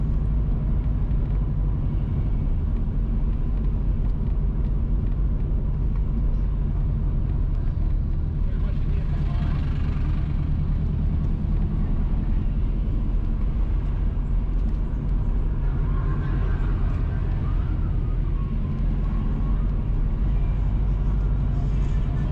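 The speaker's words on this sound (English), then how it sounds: "We are driving on Market Street and we are now entering Gayle Square." Steady, loud engine rumble and road noise from a car driving along Market Street through the town of Gayle, St Mary, Jamaica, continuous throughout with no clear voices.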